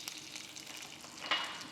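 A handful of curry leaves sizzles in hot oil with chana dal and dried red chillies for a tempering, a soft crackling fry with a brief sharper spatter near the end.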